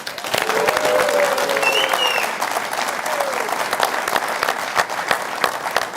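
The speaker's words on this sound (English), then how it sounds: "How about one more big cheer?" Big crowd applause with cheers and whoops from AC Milan and AS Roma supporters at a live football show, strongest early and then settling into steady clapping.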